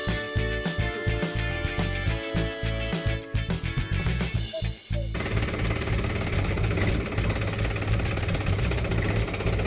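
An old tractor engine drives a maize-shelling machine: a loud, chugging, knocking pulse fills the first half, then gives way to a dense, continuous mechanical roar close by, with no clear talk.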